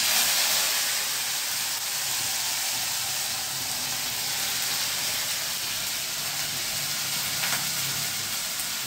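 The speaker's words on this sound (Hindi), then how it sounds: "हींग डालूंगी और वगार में मैं लहसुन की चटनी डालती हूँ" Asafoetida and garlic chutney sizzling in hot oil for a tempering, a continuous bright hissing crackle, steady and close, with no voices.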